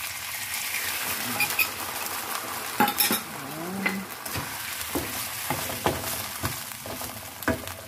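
Chicken wings sizzle in satay sauce and paprika in a pan while a utensil stirs and scrapes against the metal, giving a busy frying hiss broken by clinks and scrapes, with no talking.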